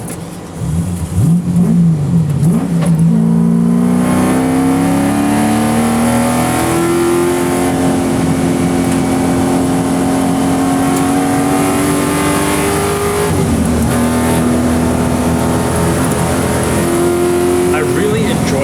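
V8-swapped Toyota Corolla AE86 with a lightweight front-engine rear-drive chassis, driven hard on a race track: a loud, close engine climbs steadily through the gears, with a brief lift around the middle. Talk runs beneath the engine.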